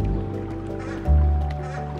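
Ducks in the SCHiM video game give a short burst of honking, quacking calls, loud and close, over a steady musical game background.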